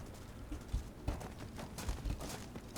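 Horse hooves clip-clopping in an uneven galloping rhythm while riding in Skyrim, moderately close and fairly quiet, with no talking.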